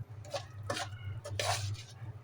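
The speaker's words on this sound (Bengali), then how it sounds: "একই তেলে দিয়ে দিয়েছি পানি ঝরিয়ে রাখা পোলাওয়ের চাল। চালটাকে ভালোভাবে ভেজে নেব।" Drained basmati rice for biryani stirred in hot oil in a metal pan, a few scraping, clinking strokes of the spoon over a low steady hum.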